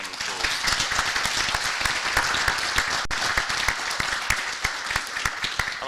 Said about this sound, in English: I want to give them all a round of applause.